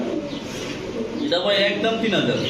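Pigeons of fancy breeds offered for sale coo softly and steadily, with someone talking over them throughout.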